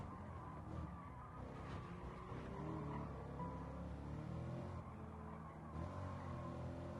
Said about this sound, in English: Sophy Blue here as, ooh, bit of drifting it into the corner there, and it looks like a Toyota Supra